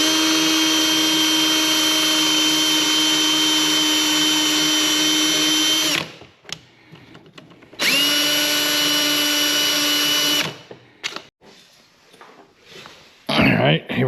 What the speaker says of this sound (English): Same trick here, you just put them pins in your drill